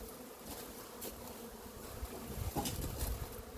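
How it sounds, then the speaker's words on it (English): Honeybees buzz steadily around a hive outdoors, a continuous close drone with a few louder passes near the end. "My bees are doing really good."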